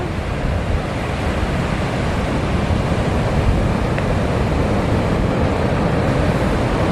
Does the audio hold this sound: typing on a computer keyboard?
no